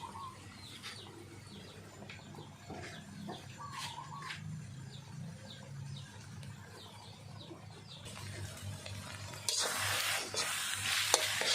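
Fish paste stir-fried in a pan, with a steady sizzle under repeated scraping and stirring strokes; near the end a louder, brighter burst of frying hiss swells up.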